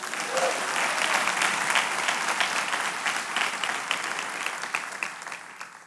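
A church congregation claps their hands during a sermon on the Good Samaritan, giving a dense, fairly soft burst of applause that slowly tapers over several seconds, with faint voices mixed in.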